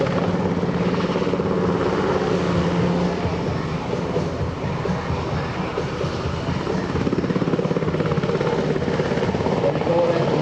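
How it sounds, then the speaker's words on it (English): Heavy, pulsing rotor roar of an MH-60S Knighthawk helicopter setting down at an air show, with a rushing wash of downwash air, loud and sustained throughout, with a voice speaking faintly underneath. "You start to hear that effect now with the helicopter."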